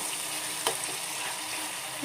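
Sambharo, a vegetable relish, sizzles steadily in a pan after steaming under a lid, with a brief scrape of stirring partway through; the frying hiss stays even and moderately loud throughout.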